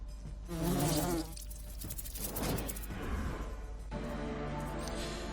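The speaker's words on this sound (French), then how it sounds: "Guêpe venimeuse." Venomous wasps buzz in the fantasy RPG Lords of Xulima, a droning insect hum that swells loudly near the start, then continues more steadily beneath layered game effects and music.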